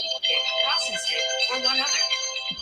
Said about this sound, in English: that's a great ringtone.